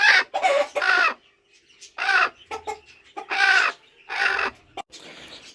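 A domestic hen set on eggs clucks in a series of short, close, distinct calls with brief pauses between them, alone without talk.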